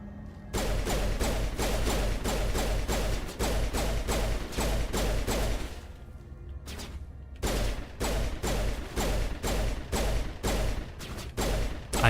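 Rapid pistol shots in the video game Mass Effect Legendary Edition, a loud, steady string of evenly spaced cracks with a brief pause midway before the firing resumes at the same pace.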